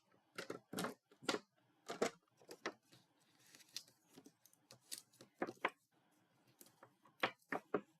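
Scissors scoring and cutting through paper for a card craft project, heard as a string of short, crisp snips and scrapes close up, irregularly spaced in a quiet room.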